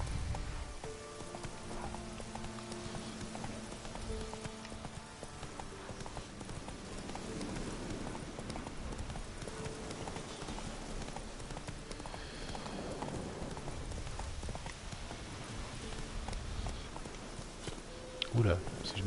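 Horse hooves clip-clop at a steady walking rhythm in The Witcher 3 video game, with someone talking over the hoofbeats throughout and some rain-like background texture.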